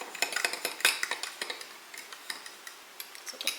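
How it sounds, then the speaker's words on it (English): Taco meat ingredients are mixed together in a bowl, with a steady run of quick, light clinks and scrapes from a spoon, close and moderately quiet. "All right, let's mix this up."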